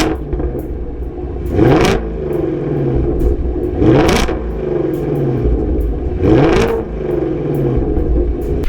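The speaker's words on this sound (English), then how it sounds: "I'll rev the engine a little bit so you can hear some of that flat plane V8 music." A 2017 Ford Mustang Shelby GT350 with a flat-plane V8 and quad exhaust is revved three times in sharp blips that rise and fall over a steady idle rumble, loud and close, with no talk.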